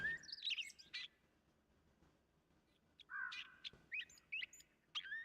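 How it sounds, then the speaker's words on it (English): Bird calls and chirps ring out in a 7 Days to Die game world, bursts of bright tweeting and caw-like notes near the start and again through the second half, with a quiet gap between. "I hear the song the bird singing"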